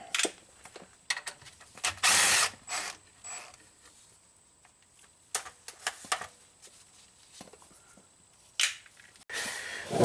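A ratchet wrench loosens rusty bolts during a transmission swap on a Mazda MPV, giving sparse, close clicking bursts and short mechanical rattles separated by quiet gaps.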